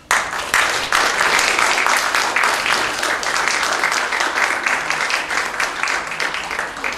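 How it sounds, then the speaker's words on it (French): A room of attendees at a business talk breaks into loud applause that starts abruptly and carries on as thick, even clapping, easing slightly toward the close. "je vous demande de bien les applaudir très très fort."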